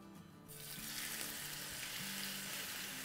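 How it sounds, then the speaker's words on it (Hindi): Chicken sizzles in about two tablespoons of hot oil in a pan for Chinese chow mein, a loud, continuous frying hiss that swells up after half a second and holds steady. "देखिए ये सिजलिंग साउंड है ना ये हमें चाइनीज़ में चाहिए"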